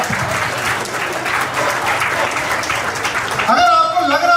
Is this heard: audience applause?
yes